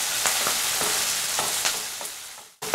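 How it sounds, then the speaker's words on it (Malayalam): Kanthari chillies sautéing in a pan, a steady loud sizzle broken by sharp spluttering pops and crackles, heard close with no talk. "കാന്താരി വഴറ്റുമ്പോൾ ശ്രദ്ധിക്കണം കേട്ടോ, പൊട്ടലും ചീറ്റലൊക്കെ ഉണ്ട്."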